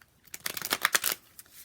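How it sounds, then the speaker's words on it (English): Tarot cards are given one quick shuffle, a fast flurry of riffling card snaps building up and then stopping, followed by a single faint tap, close and alone. "Give these a quick shuffle."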